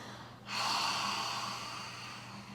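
A slow, steady exhale during a gentle yoga breathing exercise: soft breathy air starts abruptly and flows on for about two seconds, close and quiet, gradually tapering.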